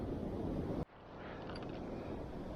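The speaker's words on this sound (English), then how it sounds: "I don't know if you can hear the wind on through this, but it's windy" Steady wind rushes and buffets the microphone on a UK canal bank in winter, a broad blustery roar that drops briefly near the start before picking back up.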